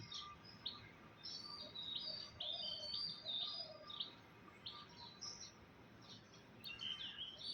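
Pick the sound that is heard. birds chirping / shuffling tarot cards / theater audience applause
birds chirping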